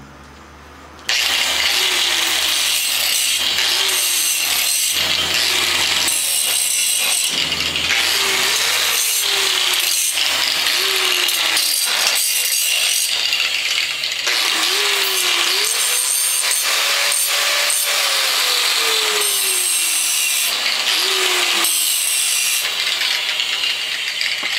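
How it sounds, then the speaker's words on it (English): Angle grinder cleaning up cut metal minibike parts, a loud continuous abrasive grinding with whining pitch swoops as the disc loads and eases, running nearly nonstop with brief dips. "Now we'll take the grinder and clean up the parts."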